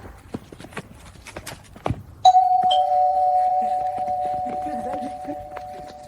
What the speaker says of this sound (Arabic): نيجي نشوف مين يقدر يرن جرس الباب ويجري